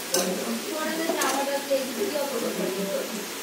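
Potatoes frying in a pan for fried rice, a soft sizzle with a few clinks of stirring, fairly quiet beneath a voice talking.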